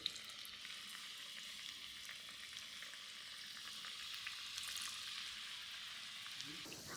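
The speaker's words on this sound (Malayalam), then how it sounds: "കുഴച്ച മാവിൽ നിന്ന് കുറച്ചെടുത്ത് കനം കുറച്ച് പരത്തി ചൂടായി കിടക്കുന്ന എണ്ണയിലേക്ക് ഇട്ട് കൊടുക്കാം" Thin rounds of onion pakoda batter sizzling in hot oil, a soft continuous crackle and hiss heard quietly and alone with no talking.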